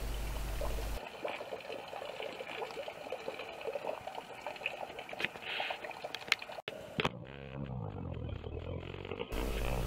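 Water trickling and pouring from a wind-turbine-driven rope pump lifting water out of a well, a faint irregular splashing with small clicks, cut off briefly near the end.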